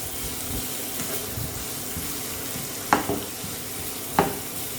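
Thinly sliced onion frying in a pan toward golden for Maharashtrian bitter gourd bhaji, a continuous soft sizzle with a few sharp clinks of a spoon against the pan.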